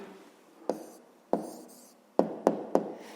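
A pen writes an answer in a notebook: several distinct taps and short scratching strokes on paper, close and quiet, spaced out with brief pauses between them.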